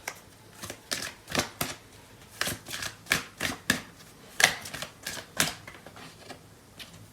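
Tarot cards being shuffled and drawn during a love reading, a brisk series of crisp riffling snaps and soft slaps in uneven bursts, close and fairly quiet, with no talking.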